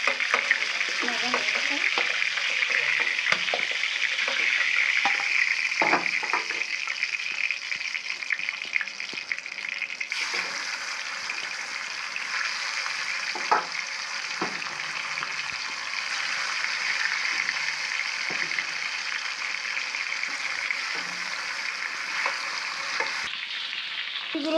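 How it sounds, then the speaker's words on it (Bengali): Chicken pieces fry in a pan with a continuous loud sizzle and bubbling crackle close by, occasional clinks and shifts of a utensil, with faint talk now and then. "মুরগিগুলো ভাজা হয়ে গেছে, নামিয়ে নিই।"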